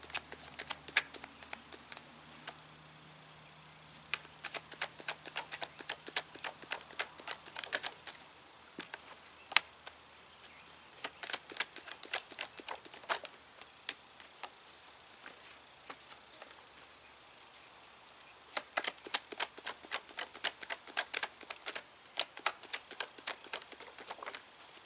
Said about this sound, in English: Let me pull all these cards out and we will go from there.